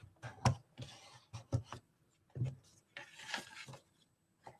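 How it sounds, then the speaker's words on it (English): Burnishing tool rubbing along paper score lines on a handmade wedding card, a series of quiet, close scraping strokes in short bursts with brief pauses between them. "I can come back and give all of those score lines a good burnish"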